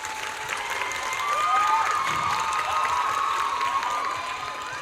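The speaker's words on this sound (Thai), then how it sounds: "ขอเสียปรบมือให้กับแม็กกี้หนึ่งรอบ" An audience at a Thai stage event applauds and cheers for Maggie, a steady wash of many hands clapping that swells in the middle, with shouts and whoops rising above it throughout.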